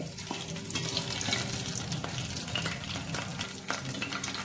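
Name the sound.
onions lightly frying in oil with spices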